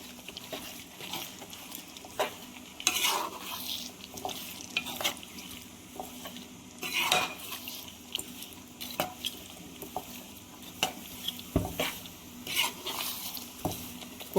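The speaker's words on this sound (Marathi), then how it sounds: "कोलंबी टाकायच्यानंतर कोलंबीला पण मसाल्यातला थोडा भुजून घेऊ" Prawns are stir-fried with masala in a pan over high heat. A spatula scrapes and clatters against the metal in irregular bursts over a steady sizzle, with loud clanks at intervals. The sound is close, with no talking.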